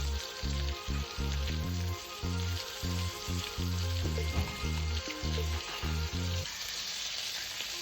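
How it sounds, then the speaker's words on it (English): Oyster mushrooms sautéing with fresh coriander in a pan give a steady, close sizzling hiss that runs beneath loud rhythmic background music with a pulsing beat. "Saute for a few seconds."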